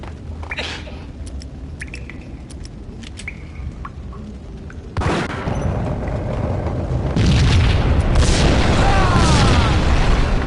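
A bomb goes off in a building rigged with explosives in a PS4 game, a sudden heavy boom midway followed by a sustained rumbling roar and scattered debris, loud and close, with faint game sounds before it.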